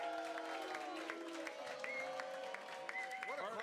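A basement pub crowd of Jaguars fans cheers and applauds, a dense mix of clapping and whoops with a voice rising over the noise near the end.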